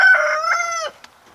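A farm rooster gives a single loud, close crow lasting under a second, followed by a faint short sound and quiet.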